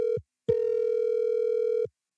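Outgoing call ringback tone over a phone line: two steady electronic rings, a short one followed by a longer held tone about 1.4 seconds, clean and alone with no talk.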